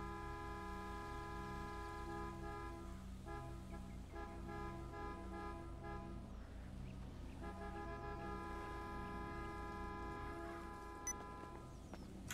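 Car horns honk repeatedly in GTA 5 played on FiveM, a steady run of toots over a continuous engine drone, loud and close for the whole stretch with a short break midway.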